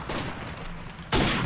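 Sniper rifle fire in the first-person shooter Call of Duty: Modern Warfare Remastered, with a loud shot bursting in near the end over a steady noisy game background; no talking.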